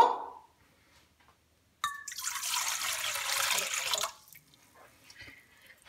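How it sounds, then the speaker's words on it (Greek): Lukewarm water pours into a bowl for pizza dough, a steady splashing stream of about two seconds after a brief knock, then tapering to faint trickles and drips, close and quiet with no talk. "Πρώτα θα ρίξουμε το νεράκι μας το χλιαρό."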